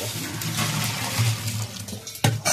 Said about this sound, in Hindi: अब इसको हम पानी से निकाल देंगे इसका पानी जो है वेस्ट कर देंगे